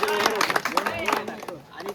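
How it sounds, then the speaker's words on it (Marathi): Trekking group clapping for their trek guide Manohar on the Garbett Plateau, a short burst of scattered hand claps close by, mixed with voices talking and calling over it. "तर त्यांच्यासाठी जोरदार टाळ्या होऊन जाऊया"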